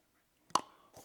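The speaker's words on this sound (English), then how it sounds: "this is the sound of the case closing" An old Powerbeats earbuds charging case snaps shut with one short, soft click, followed by a fainter settling tap in an otherwise silent room.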